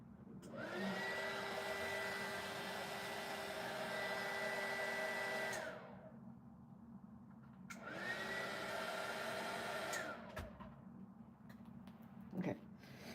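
A hair dryer blows on fluid pen artwork, making a steady whooshing drone in two long runs of several seconds each with brief pauses between them, close and fairly loud.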